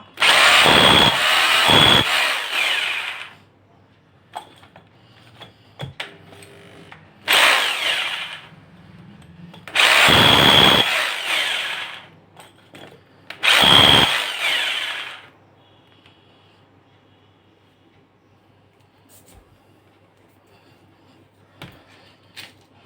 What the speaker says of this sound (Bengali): ড্রিল করে দেখা যাক কেমন ড্রিল করে